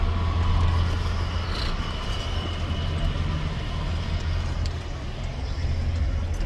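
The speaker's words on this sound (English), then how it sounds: "Trucks all over here." Trucks rumble past on a rural road at harvest time where wheat pasture cattle are being shipped out, a continuous heavy low engine roar with road noise, moderately loud and unbroken.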